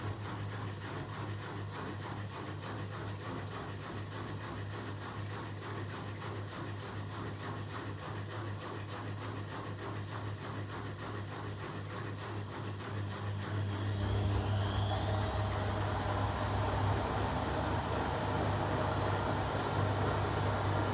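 An Arçelik (Beko) 4450A washing machine with a 1000 RPM top spin runs with a steady pulsing whir, then surges louder as a rising high whine builds and settles into a sustained spin.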